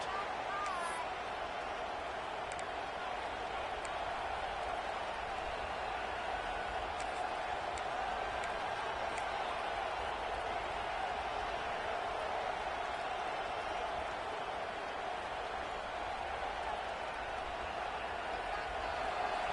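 A constant, distant roar of a large college football crowd in a video game, steady and even throughout with no breaks, like a packed stadium heard from afar.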